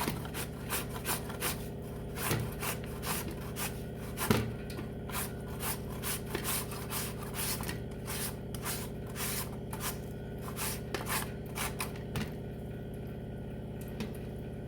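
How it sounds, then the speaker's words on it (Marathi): Peeled mangoes are grated by hand over a grater set above a sieve and plate, producing a steady run of rapid rasping strokes that is close and even, with no talk. "आता आपण हे आंबे किसून घेणार आहोत"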